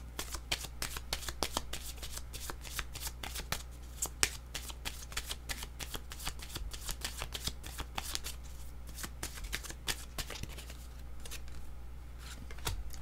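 Tarot cards are shuffled steadily for the whole stretch, a dense run of quick papery riffles and flicks at close range with a low steady hum underneath, no talking.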